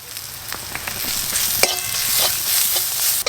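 Ground spices with ginger, turmeric, salt and chopped green chilli frying in a pan for aloo chop. A steady, bright sizzle runs throughout, broken by occasional sharp clicks and scrapes of stirring.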